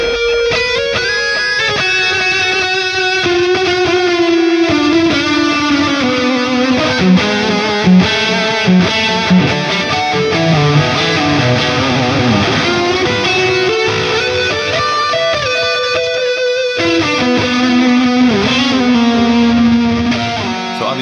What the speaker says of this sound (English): that guitar solo on its own